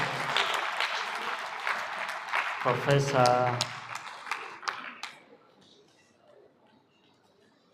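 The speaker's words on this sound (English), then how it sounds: "a very thunderous applause for our keynote speaker" Applause from a conference audience greeting the keynote speaker at a national conference in Kaduna, heard as a broad wash of clapping under a host's amplified voice, fading out toward the end.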